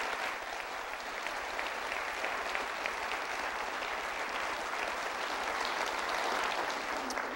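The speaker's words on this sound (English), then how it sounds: "We have a nice round of applause for those folks tonight." An audience at a public debate on Oregon's cannabis Measure 91 at Portland State University gives a sustained round of applause, with steady, moderately distant clapping that continues evenly throughout without talk.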